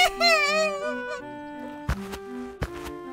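A cartoon duck's honking quacks from an animated animal soccer game come in a warbling, nasal burst at the start, followed by a few sharp clacks and thuds.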